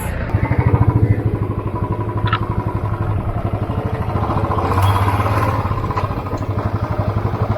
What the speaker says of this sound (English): we will start our bike and we're gonna take you to hill village of Kerala